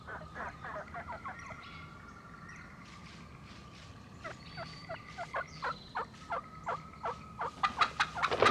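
A wild turkey flock calls at roost near sundown, with a run of repeated clucks and yelps, some sharp and close, that grow louder and denser toward the end.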